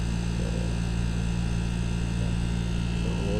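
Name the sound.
compressor running hum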